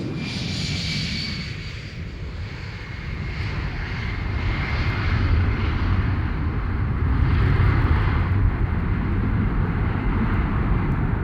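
Boeing 747 four-engine airliner producing a sustained, loud, broadband jet roar that swells gradually and holds steady throughout.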